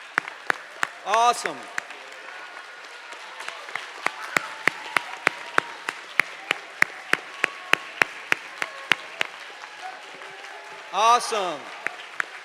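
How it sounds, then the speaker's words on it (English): A convocation audience claps for newly arrived students at Warner University, with sparse, distinct claps and a few louder ones ringing out over a long stretch, and a voice speaking briefly at the start and near the end. "let's give a round of applause and welcome them"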